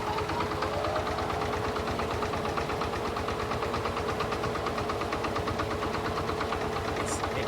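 A small homemade zero-turn mower on a family farm runs its engine at a steady idle, a close, rapid, even chugging pulse with a faint whine that continues unbroken throughout.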